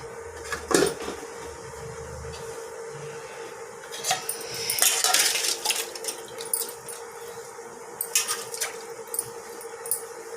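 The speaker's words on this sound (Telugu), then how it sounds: "మూత పెట్టేస్తున్నాను." A lid is set onto a cooking pot of curry that has been cooked in oil and now simmers in water. There are a few short clanks, one near the start and a cluster midway, over a steady kitchen hum.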